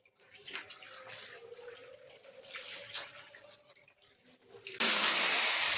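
Water running from a tap during house plastering work, first a thin uneven trickle with drips and splashes, then a sudden strong, steady gush near the end.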